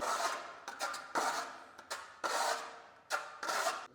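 A metal trowel spreads decorative plaster across a rough wall in repeated scraping strokes, about seven or eight rasping sweeps of uneven length, close by with no talking.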